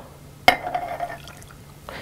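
Pickling brine is ladled over spiced pickled beetroots: a sharp clink of the ladle on glass followed by a short splash and trickle of liquid, then a faint second pour near the end, close and otherwise quiet.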